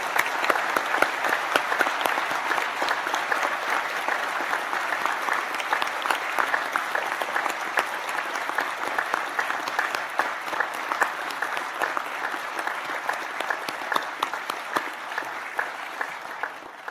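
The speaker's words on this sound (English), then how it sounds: "join me in applauding the wonderful achievements of these" A university graduation audience in Newcastle, Australia claps for the graduates, with steady, dense applause filling the hall at an even level for the whole stretch.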